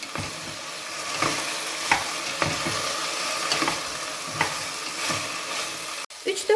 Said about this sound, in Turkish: Ve yine sebzelerin kavrulmasını sağlıyorum.